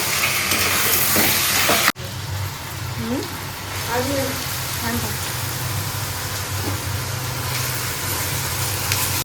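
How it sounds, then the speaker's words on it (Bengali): Meat being sautéed in a pan in a home kitchen gives a steady close sizzle and hiss, with a brief louder burst at the start and faint voices in the background. "আর মাংস এখানে কষা হচ্ছে"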